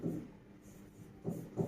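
Marker or chalk writing on a board during a math lecture, a few short soft scratching strokes close by and faint, with brief gaps between them.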